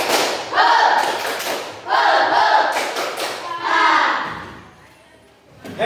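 Children clap and chant the 'tepuk semangat' spirit clap in a classroom lesson, loud close bursts of patterned clapping mixed with young voices calling out in rhythm, repeated three times with short pauses.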